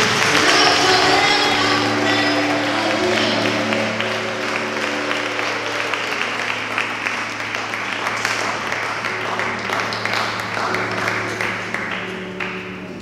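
A church congregation applauds during a pastors' installation ceremony, a dense, steady wash of clapping with crowd noise and background music, loud at first and easing slightly over the span.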